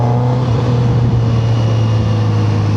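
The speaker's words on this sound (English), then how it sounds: "Kawasaki have tuned this exhaust to give a really nice exhaust note" A Kawasaki Z900RS motorcycle with a tuned exhaust idles close by with a steady, loud, deep drone and a slight rise in pitch, alone with no talking.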